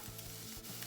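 Shallots and garlic sauté in a pan of grease, giving a steady, close sizzle that runs unbroken throughout with a low bubbling underneath.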